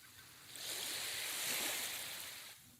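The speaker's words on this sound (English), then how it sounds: "You hear the waves crashing." A wave rushes in and washes over the shore, swelling to a broad hiss and then fading, heard alone without voices.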